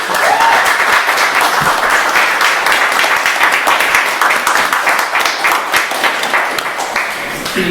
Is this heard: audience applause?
yes